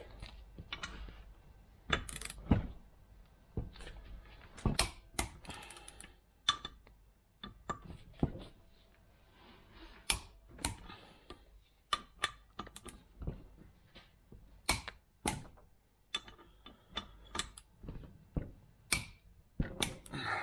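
A torque wrench set to 55 foot-pounds tightening bolts on the front suspension of a Land Rover Series IIa, giving a string of sharp, close metallic clicks and ratcheting ticks in irregular bursts with quiet gaps between.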